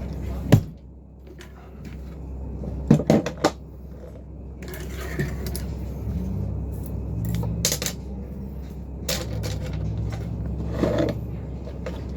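A drawer in a bedroom being opened and wiped clean, with a few sharp knocks and clatters near the start and scattered handling bumps and rustles afterward, close up, while someone talks throughout.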